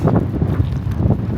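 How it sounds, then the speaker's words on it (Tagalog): Strong wind buffets the microphone with a loud, low, gusty roar for a brief moment. "Lakas ng hangin"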